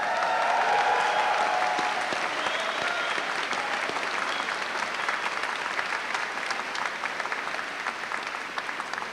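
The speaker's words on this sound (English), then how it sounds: "This is a good chance for you to give us a little cheer." A large commencement audience at a 1996 university graduation ceremony bursts into sustained applause and cheering, a dense roar of clapping that starts loud and stays strong before gently tapering, with no talk over it.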